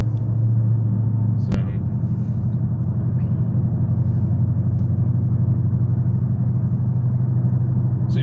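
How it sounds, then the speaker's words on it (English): A steady, low rumble from a car with a Corsa Extreme exhaust at a car meet in Lorain, Ohio, even and continuous, with a single brief sharp click near the start. "I don't know how well you can hear the car."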